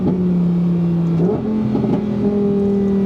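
Lamborghini Huracán Sterrato engine revving in Sport mode with the exhaust valve open: a loud, close, steady drone that steps up in pitch several times as revs climb.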